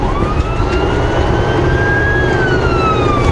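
A wailing emergency siren sweeps up and down close by over a loud rumbling engine and road noise, sustained throughout with no speech.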